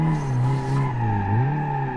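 In the BeamNG.drive video game, a drifting car gives a continuous tire squeal that wavers in pitch over a loud engine drone.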